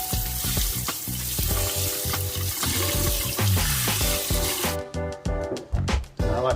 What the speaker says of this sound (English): Then in cold water, give it a nice quick rinse.